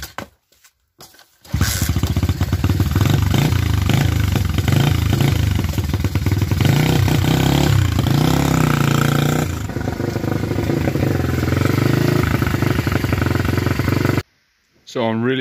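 A small rebuilt pit bike engine sputters to life and runs loudly, revving and clattering unevenly, then cuts off abruptly near the end.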